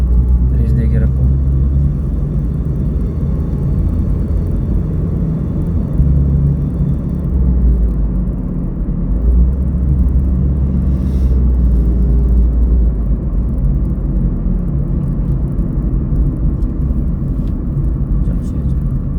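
Recorded from inside, a car drives steadily during a road test assessment in Ras Al Khaimah, giving a loud continuous low rumble of engine and road noise, with an instructor talking intermittently over it.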